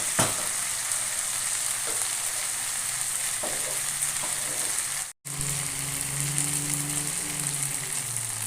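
Chicken simmers with coconut milk in a pan, a steady bubbling sizzle with faint stirring, briefly cut off by a sudden gap, then resuming with a low humming undertone, no one speaking.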